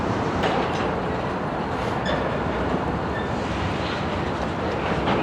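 Remote-controlled locomotive moving railcars, including a tank car, in the Denver North rail yard; a steady loud rumble with clickety-clack of wheels and a faint squeal, continuous and close, with no talk.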